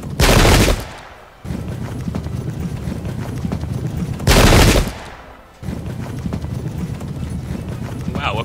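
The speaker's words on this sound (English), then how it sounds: "So these guys better lay down a beautiful volley." A musket volley in the Pike and Shot video game's Battle of Marston Moor: two loud, crackling bursts of massed gunfire about four seconds apart, each over a steady din of battle noise.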